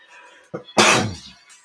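A single person sneezes, a short sharp intake followed by a loud explosive burst that tails off quickly, close to the microphone in an otherwise quiet room.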